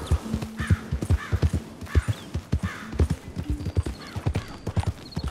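A horse in the video game Red Dead Redemption 2 walks with a steady, close clip-clop of hooves, joined by brief snorts and neigh-like calls.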